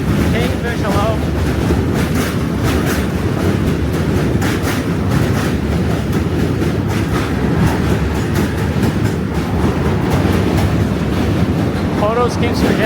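A train passes close by with loud continuous rumbling and rhythmic clattering of the wheels on rails, mixed with wind buffeting, and holds steady for the whole stretch.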